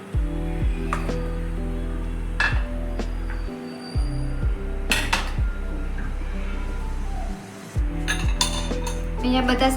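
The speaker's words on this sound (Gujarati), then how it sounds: "હવે આપણે આ બધા શાકભાજીને કુકરમાં એડ કરશું." Chopped vegetables (bottle gourd, beetroot, cauliflower) dropped into a pressure cooker for pav bhaji, giving several sharp metallic clanks and clinks over a steady low hum, close and fairly loud.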